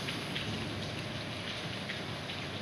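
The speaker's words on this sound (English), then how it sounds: "at least you heard the rain" Heavy rain pours steadily during a thunderstorm in Hamburg before dawn, a dense continuous hiss of drops hitting surfaces with no pauses, close and loud.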